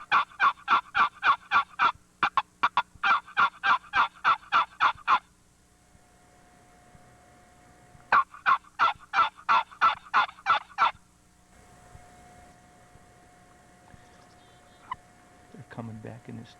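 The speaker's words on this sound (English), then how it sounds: "I think that hen may be leading them back here" Wild turkeys gobble in rapid rattling bursts: two long runs at the start, a pause, then another loud series, followed by quieter rustling and a brief low voice near the end.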